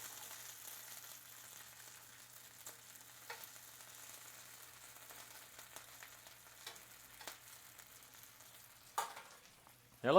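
Pork jowl bits fry in a pan with a steady, soft sizzle and crackle throughout, ending in a few louder scrapes and clatters of utensils.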